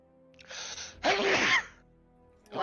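One loud, close sneeze with a short breathy intake before it, then quiet.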